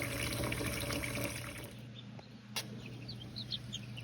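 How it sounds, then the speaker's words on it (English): Cold tap water runs steadily into a sink to wash freshly picked green beans, a loud rushing pour that eases off as chickens cluck faintly in the background. "I'm going to add cold water to wash the beans."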